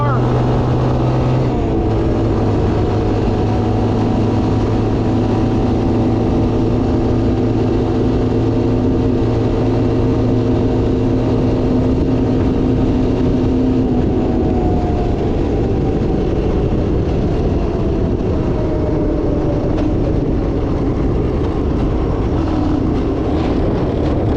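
A classic Honda Big Red engine revs loudly and steadily, its pitch climbing and dropping as it shifts up through the gears, with a voice calling out over the constant drone.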